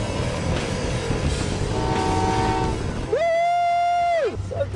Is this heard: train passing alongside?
yes